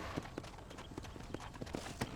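A horse's hooves clip-clop at a steady walking rhythm in the Red Dead Redemption video game, moderately close and fairly quiet, with repeated distinct hoof strikes across the clip.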